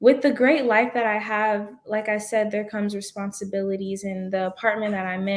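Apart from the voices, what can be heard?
No everyday noises stand out.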